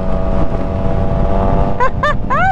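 A Triumph Trident motorcycle engine runs steadily close by, a loud continuous rumble, joined near the end by a few short rising revs.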